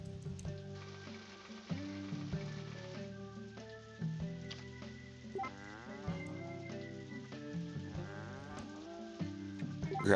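Rain hisses steadily in the farming game Story of Seasons: A Wonderful Life, a soft continuous patter under tonal game music and occasional cattle moos.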